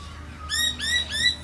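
Garden birds chirp in three bright, repeated bursts of clear whistled notes against a faint low background hum, close by and with no talking.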